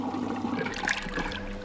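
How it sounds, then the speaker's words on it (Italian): A cartoon washing machine fills with hot soapy water: a brief, soft gush and swirl of running water lasting under two seconds. "La lavatrice si riempie di acqua calda saponata."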